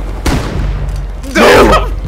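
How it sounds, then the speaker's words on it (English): Shotgun buckshot blasts in the survival game Rust, a sharp broadband boom early followed by a louder, longer burst of firing, heard amid tense game ambience with voices nearby. "Here comes a buckshot."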